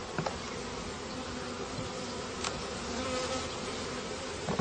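Honeybees hum densely around beehive frames as a comb is set back in the hive, a steady close buzz with a few individual bees darting louder past the listener.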